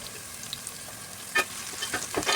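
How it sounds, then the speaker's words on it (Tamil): Onion, dried red chili and curry leaves sautéing in a pan for a country chicken gravy tempering, a low steady sizzle with a few sharper crackles and stirring scrapes near the end. "நல்லா வதக்கி விட்டுட்டு கருவேப்பிலையும் போட்டு வதக்கிக்கணும்."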